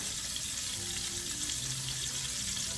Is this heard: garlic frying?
yes